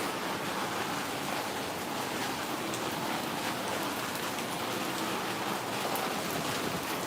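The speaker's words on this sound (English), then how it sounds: "it doesn't look like it's raining real hard, but it is. It's just really steady and dense" Steady, dense rain falls continuously on outdoor surfaces in Bangkok, a uniform hiss of drops with no pauses and no voices.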